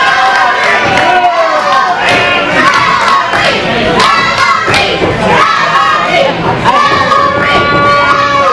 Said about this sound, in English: We got a small cheering section out here.